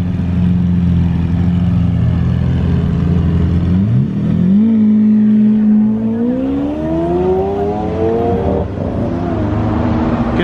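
A Lamborghini Aventador revs loudly and drives past on a street in Beverly Hills. A steady, close engine drone climbs into a rising roar as the car accelerates away.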